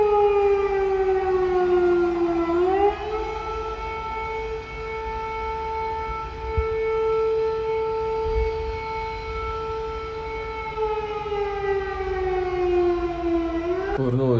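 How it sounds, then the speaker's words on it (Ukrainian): Civil defense air raid siren in Lviv, a loud sustained wail that rises, holds a long steady pitch, then falls and rises again, carrying across the city with faint background noise and no talk. "сирена перервала нам і шопінг"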